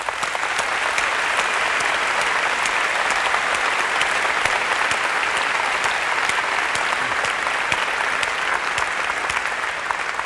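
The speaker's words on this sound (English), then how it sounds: "I'd like to give them a round of applause." A large keynote audience at Macworld New York 2002 breaks into sustained applause, a dense steady wash of clapping that holds at an even, loud level throughout with no voices over it.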